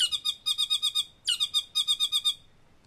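A saddleback, a New Zealand wattled bird, gives a fast, rhythmic series of bright chattering notes, repeated in several bursts and played back from a recording.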